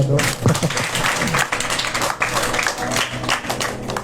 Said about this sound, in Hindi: प्रभु के लिए तो ताली बजा दो।